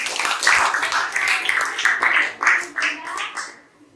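Classroom applause from a group of students, uneven bursts of clapping hands rising and falling for several seconds before fading out.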